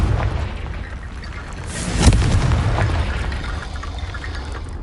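A Confringo blasting spell goes off in Hogwarts Legacy, a single loud booming explosion that swells, peaks sharply midway and then trails off into a rumbling roar.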